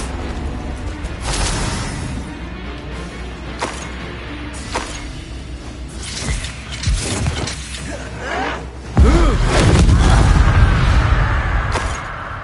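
Confringo explosive spells blasting in the video game Hogwarts Legacy: scattered sharp cracks and thuds, then one loud, deep rumbling blast near the end that lingers.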